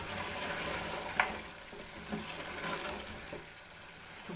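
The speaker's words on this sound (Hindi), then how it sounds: "हम आलूओं को भी भून लेंगे अच्छी तरह से गोश्त के अंदर" Potatoes frying with meat in a pot for aloo gosht give a soft, steady sizzle, with a sharp clink of a utensil and a few quieter stirring scrapes over it.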